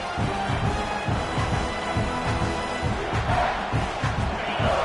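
A dense stadium crowd roars and chants steadily throughout a Georgia vs South Carolina college football game, loud and continuous with rhythmic swells.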